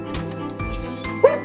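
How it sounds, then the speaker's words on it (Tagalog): A dog barks a few times nearby in a house in the early morning, short yips against a low steady background hum, with a brief clink near the end. "Aso."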